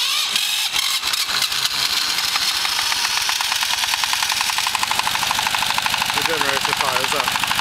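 A single-cylinder S1100 diesel engine, set up to burn vegetable oil for combined heat and power, starts with a glow plug and runs as a loud, steady, rattling chug throughout, with a voice speaking over it.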